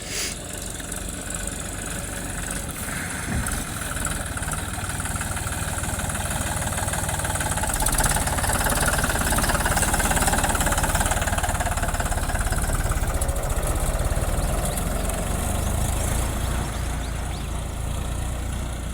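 A tractor engine runs steadily and fairly close as it arrives to pull a sugarcane-loaded trolley out of a pit on a farm; the even mechanical drone holds throughout with no talk.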